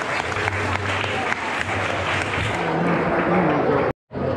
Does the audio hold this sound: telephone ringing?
no